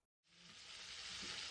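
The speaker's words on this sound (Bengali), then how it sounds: "কড়াইয়ে তেল গরম করে একে একে পটলগুলো দিয়ে দিচ্ছি" Pointed gourd slices dropped into hot oil in a wok set off a sudden, steady sizzle that swells and holds loud and close, with no talk over it.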